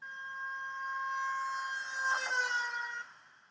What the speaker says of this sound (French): Par exemple, une voiture qui klaxonne.